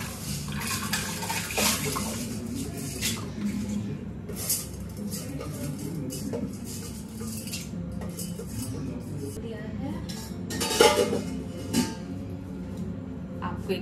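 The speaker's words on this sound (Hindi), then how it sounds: "अब इसको डाल देते हैं प्रेशर कुकर में" Soaked mixed lentils are tipped into a pressure cooker in a home kitchen. Metal clinks and scrapes of pots and utensils come with wet splashing, close and moderately loud, with a sharper clank near the end.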